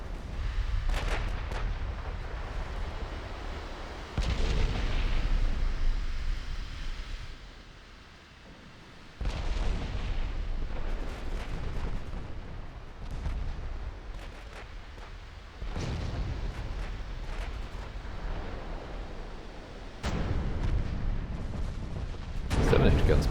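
Seven-inch and 17-inch naval guns fire in a naval battle in the video game Ultimate Admiral: Dreadnoughts, deep booming salvos repeating every few seconds with rumbling tails.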